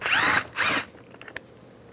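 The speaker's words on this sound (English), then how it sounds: "Using the 7mm socket, take this screw out" A power driver with a 7mm socket backs a screw out of a 2015-2020 GMC Yukon door, giving two short close whirring bursts followed by faint clicks as the screw comes free.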